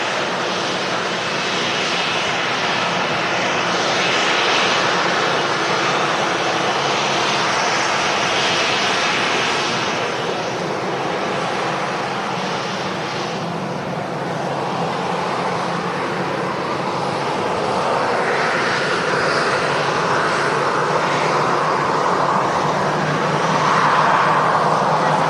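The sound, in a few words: aircraft engines at Manchester Airport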